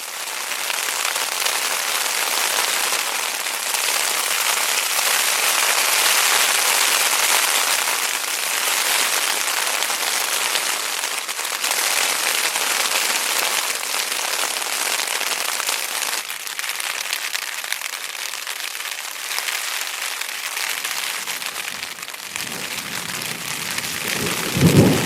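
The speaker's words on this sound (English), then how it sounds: "That is what a real downpour along with some lightning and thunder sounded like." A heavy night downpour with lightning pounds on a backpacking camp in the Wind River Range, a dense, loud, continuous roar of rain mixed with rolling thunder, steady from start to finish.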